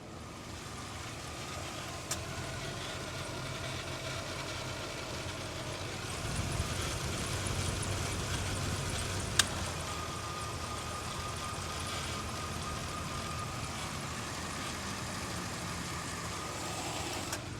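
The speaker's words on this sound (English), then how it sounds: "Okay, so now it's idling." An original 1978 Corvette L48 V8 idling steadily with the bonnet up, a constant close engine rumble with a couple of faint clicks and no speech.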